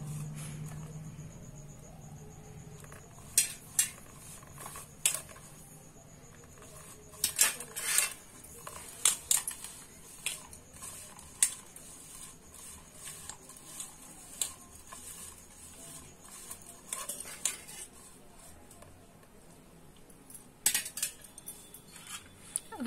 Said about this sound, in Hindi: अब इसको अच्छी तरह से मिक्स कर देंगे।